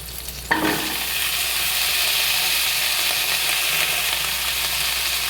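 Ridge gourd and pumpkin tipped into hot oil with green chilli, setting off a sudden loud sizzle that holds steady and close, with stirring underneath.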